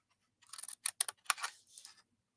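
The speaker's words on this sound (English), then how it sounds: "we're going to cut up this score line, cut that little rectangle off" Scissors snip through paper or card along a score line and cut off a small rectangle, several short, crisp cuts in quick succession, close and fairly quiet against a silent background.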